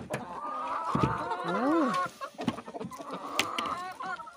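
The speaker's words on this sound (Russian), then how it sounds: "Убежали курочки." Hens cluck and squawk in a quick, busy burst close by, with rising and falling calls overlapping, a brief pause, then more clucking at the end.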